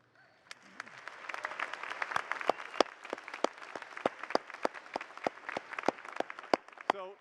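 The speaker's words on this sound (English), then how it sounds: "they applaud you" Audience at a DePaul University commencement ceremony clapping for graduates: scattered, fairly faint hand claps with sharp individual strikes standing out over a soft, distant crowd wash.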